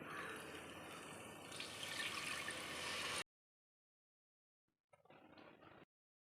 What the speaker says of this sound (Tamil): 1 கப் புளி ஊற்றுறோம்.